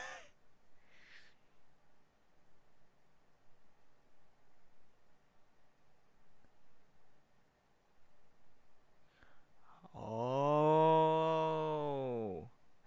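A crow gives a single long, loud cawing call near the end, preceded by a stretch of quiet low background.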